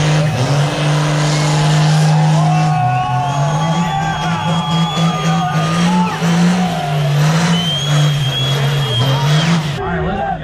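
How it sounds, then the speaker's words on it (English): Cars doing burnouts at a wet car event at the Freedom Factory, a steady loud engine drone with rising and falling revs and some tire squeal, heard from nearby with voices and crowd noise mixed in. "They're still doing a bunch of burnouts over there."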